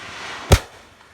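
A single sharp burst from a willow firework shell, loud and brief, breaking over faint background noise and fading into a short hiss-like tail.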